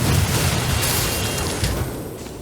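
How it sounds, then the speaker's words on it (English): Dense rumbling explosions and blasts from the Far Cry video game fill a short burst, loud and broadband with a heavy low-end roar, no talking. "Let's see some explosions."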